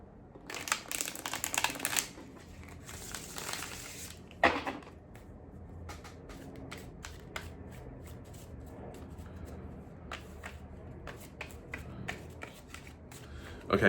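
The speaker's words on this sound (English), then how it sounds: "Just a little shuffle." Tarot cards are shuffled close by in several quick riffling bursts, followed by lighter flicks and taps as the deck is handled.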